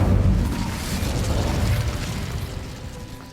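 The Incendio fire spell is cast in Hogwarts Legacy, starting with a loud fiery burst and whoosh that crackles and rumbles as it slowly fades over a few seconds.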